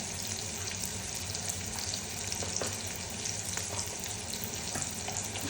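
Ginger and garlic paste sizzles in hot oil with a steady, hissing crackle that is fairly quiet and continuous, with no talking.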